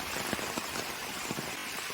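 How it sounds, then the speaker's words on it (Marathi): Heavy monsoon rain pours steadily onto a garden in Konkan, India, a dense continuous hiss with scattered louder drops, no voices. "तर पावसाने जोरदार हजेरी लावले पाहू शकता या ठिकाणी"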